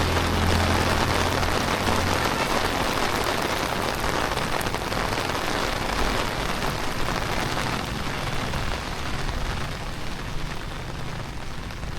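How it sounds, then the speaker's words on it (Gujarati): Heavy rain pours steadily at Pavagadh Mahakali temple, a dense, loud hiss of drops on surfaces that holds constant throughout, easing only slightly toward the end. "વરસાદ બહુ આવી ગયો છે, ફૂલે ફૂલ."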